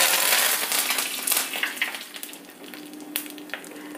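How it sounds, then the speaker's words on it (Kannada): Curry leaves, mustard seeds and urad and chana dal sizzling in hot oil as tempering for tomato puliyogare, a loud crackling spatter that fades to lighter sporadic pops. "ಎಣ್ಣೆ ಬಿಸಿಯಾಗಿದೆ ಸಾಸಿವೆ ಹಾಕ್ತಾ ಇದ್ದೀನಿ"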